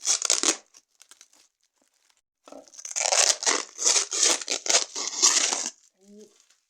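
A taped New Year's gift package is unwrapped up close, with bursts of crinkling paper and tearing tape, a short rustle, a pause, then several seconds of vigorous crackling and ripping, followed by a brief voice.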